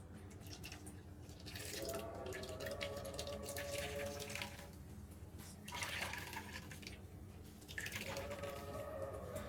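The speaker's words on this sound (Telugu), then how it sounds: "దీన్ని ఇట్లా స్ట్రెయిన్ చేసేసుకోవడమే. చూసారా అప్పుడు పాలు అలా దిగిపోయినాయి." Coconut milk strained through a saree cloth drips and trickles steadily into a vessel, faint and close, with soft liquid patter throughout.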